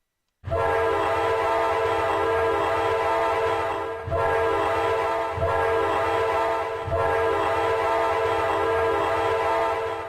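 A train in the Trainz Model Railroad 2017 game rumbles along loudly and without pause, its horn-like tonal drone layered over the rail noise, briefly dipping about every few seconds.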